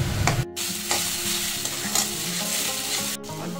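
Radish being stirred and fried in a pan: a steady, close sizzle with scraping stirs throughout and a couple of brief pauses.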